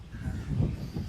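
Large crows call from a wooded, forest-like spot, their rough caws faint and distant over a low background murmur, lasting only about a second.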